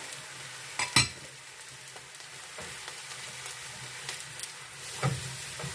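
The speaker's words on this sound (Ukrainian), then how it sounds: "Фарш геть-геть-геть так роздрібнюємо отак" Seasoned minced meat frying in a pan for a quick lunch, a soft, continuous sizzle with a few scraping knocks as a spatula breaks the mince apart.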